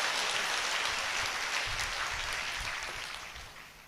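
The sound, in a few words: audience applause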